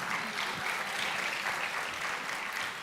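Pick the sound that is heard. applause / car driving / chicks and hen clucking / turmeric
applause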